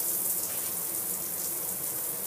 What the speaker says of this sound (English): It's got water jets which shoot out at you, which is quite nice.